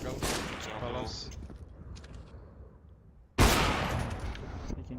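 Counter-Strike gunfire crackles loudly and close, a dense burst of shots that fades before another sudden loud volley erupts near the end, amid busy game noise.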